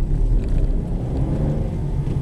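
A Citroen C1 LPG five-door hatchback pulls away in first gear, its engine a steady, close low rumble with no sharp revving and no talking.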